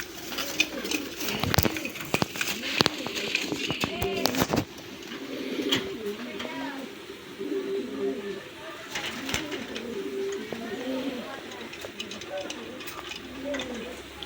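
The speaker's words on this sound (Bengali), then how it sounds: "আমি নটটার একটু ডাক দেখানোর চেষ্টাটা করি" A male pigeon cooing, repeated soft rolling coos close by, with a person talking intermittently alongside.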